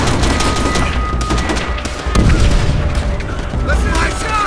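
Explosions and heavy gunfire crash through a Call of Duty: World at War battle, with a grenade blast among rapid bursts of shots and booming impacts, over excited voices.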